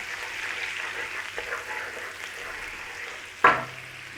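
Garlic frying in butter in a pan over a low flame, a soft steady sizzle throughout with one sharp clink or tap near the end.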